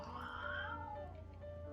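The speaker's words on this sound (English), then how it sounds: "Cats don't like flying, apparently." A cat gives a drawn-out, wavering meow, faint and low in level over a steady hum, with a small trailing cry near the end.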